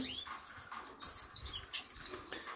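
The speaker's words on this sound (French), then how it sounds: "le deuxième couple de chardonneret" A pair of goldfinches in a cage chirps softly, giving scattered, brief, high tweets against a quiet background with no voices.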